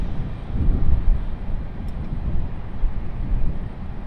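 American Airlines A319 jet engines at Raleigh Durham airport spooling to full takeoff thrust, a deep, heavy rumbling roar heard from a distance and holding steady throughout.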